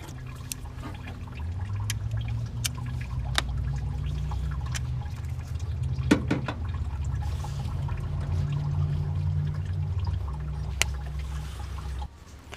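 Transmission fluid runs out of a 2004 Toyota Camry with a 2AZ-FE engine during an engine swap, a steady pouring trickle with occasional clicks and clanks from the work nearby, no talk.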